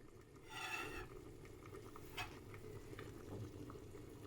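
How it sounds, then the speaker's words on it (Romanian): Vegan sarmale stuffed with rice, mushrooms and couscous bubbling at a boil in a pot, a soft low simmer with a few sharper bursts and pops; no voices. "Cât de bine fierb sarmalele, nu aveți idee."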